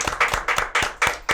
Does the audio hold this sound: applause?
yes